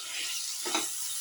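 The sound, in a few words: sautéing spinach and paneer in a pan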